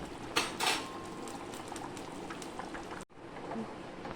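Magur fish curry bubbling in a pot, with a steady wet simmer, a couple of clinks of utensils near the start and a short break partway through.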